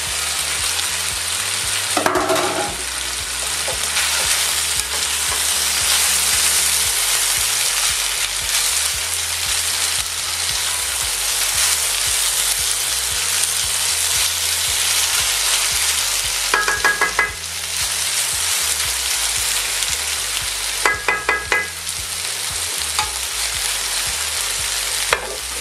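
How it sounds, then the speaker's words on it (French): Onions fry in a hot pan, giving a loud, continuous sizzle that runs throughout. Brief clattering scrapes of a utensil come through at a few points. "On commence à griller. Hop, on y met les oignons."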